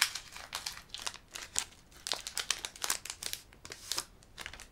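Crinkling and crumpling of a Pokémon Cosmic Eclipse trading card booster pack wrapper being torn open, close and continuous with quick irregular bursts, no talking.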